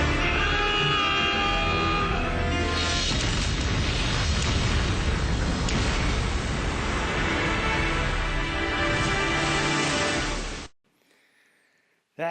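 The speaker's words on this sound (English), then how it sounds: "It goes under the ship, and then it detonates, and you see the sort of the initial explosion" Recorded footage of a torpedo detonating under a modern warship: a long, loud, roaring explosion rumble sustained for about ten seconds and then cut to near silence.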